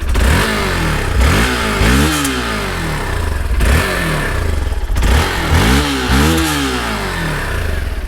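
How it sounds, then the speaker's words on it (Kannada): A Hero Xpulse 200 4V Pro motorcycle with an oil-cooled, four-valve, fuel-injected engine blips its throttle again and again from idle, each short rev swelling and dropping back through its exhaust, loud and close, with no talking. "ಸೊ ಎಕ್ಸಾಸ್ಟ್ ಸೌಂಡ್ ಬನ್ನಿ ಹಂಗೆ ಎಕ್ಸಾಸ್ಟ್ ಸೌಂಡು"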